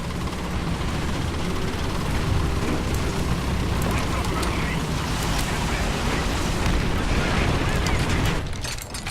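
Artillery strike explosions in a War Thunder tank battle: a loud, continuous barrage of booms and rumbling blasts that fills the whole stretch, then breaks off sharply just before the end.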